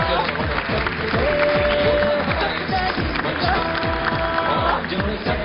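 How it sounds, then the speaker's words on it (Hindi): Audience at a 2016 theatre event breaks into sustained, rhythmic clapping that stays steady and loud throughout, with voices mixed into the crowd noise. "इनका जोरदार तालियों से"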